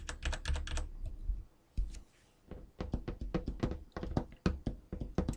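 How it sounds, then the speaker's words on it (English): Keys clack in quick bursts of typing, then after a short pause fingers tap and knock on a desk, all picked up close by a sensitive USB microphone, crisp and dry with no talking. "tapping things on my desk"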